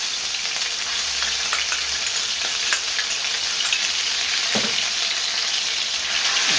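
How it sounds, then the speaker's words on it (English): Ginger garlic paste and tomato puree sizzling in a pan while being stirred for a British Indian restaurant-style saag aloo, a close steady frying hiss with scattered crackles and occasional scraping of the spoon. "you can see that ginger and garlic is already roasting"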